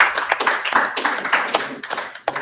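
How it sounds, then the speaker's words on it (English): A small audience at a student blockchain trading meetup gives a short round of applause, a handful of people clapping in uneven bursts that thin out over a couple of seconds. "So round of applause for everyone."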